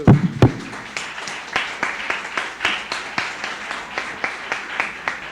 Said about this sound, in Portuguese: Vamos dar uma forte salva de palmas para o nosso Deus.